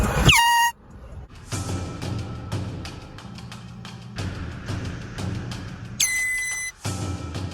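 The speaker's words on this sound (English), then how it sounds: "we're going to go to the golf course and blow the air horn some more" Air horn blasts on a golf course: a loud sharp honk at the start and another near the end, with outdoor rumble and wind between.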